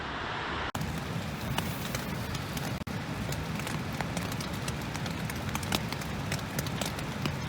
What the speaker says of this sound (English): As you can probably hear from the rain on the tent, the weather has deteriorated.